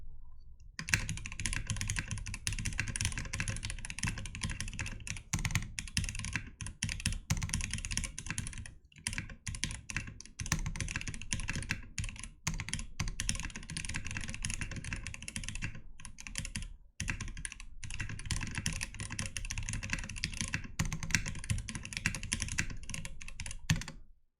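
Steady mechanical keyboard typing, fast and continuous with brief pauses, clicky keystrokes fairly close and moderately quiet, no voices.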